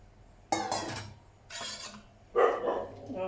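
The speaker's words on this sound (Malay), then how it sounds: "Abaikan bunyi anjing tu ya, tu anjing jiran saya." A neighbour's dog barks nearby in a home kitchen, giving three loud, separate barks spaced about a second apart, with faint clinking of pots and utensils in the background.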